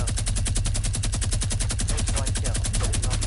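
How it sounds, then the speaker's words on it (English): A minigun fires in Fortnite: a rapid, steady stream of shots, about a dozen per second, loud and continuous for the whole stretch with a heavy low-end thump, no talking over it. "why is he using his minigun though?"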